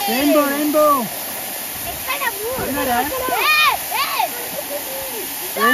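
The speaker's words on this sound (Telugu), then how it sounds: "ఈ తలకోన వాటర్ ఫాల్స్ లో డైవ్ అస్సలు చేయకండి." Talakona waterfall near Tirupati roars with a steady broadband rush of falling water, heard close and continuous beneath people talking throughout.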